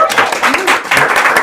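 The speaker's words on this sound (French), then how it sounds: "Un tonnerre d'applaudissements," Studio audience applauding a guest's entrance on a French-language game show pitting a Breton against an Alsatian, a dense burst of clapping with cheers and voices mixed in, loud and close throughout.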